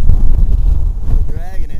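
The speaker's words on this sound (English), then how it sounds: "That's probably 60-mile-an-hour gust." Strong West Texas wind gust of about 60 mph roaring straight into the microphone as a constant heavy buffeting rumble, loud throughout, with faint voices beneath it.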